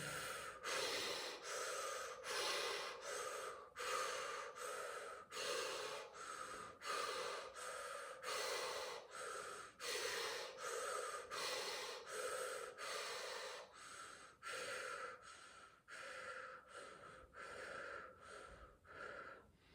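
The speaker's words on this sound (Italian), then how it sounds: "Io diminuisco il respiro, altrimenti ti invito a respirare come me" Slow, deep guided breaths in a meditation session, each inhale and exhale a loud, close, airy rush repeating in a steady rhythm with short pauses between, no speech.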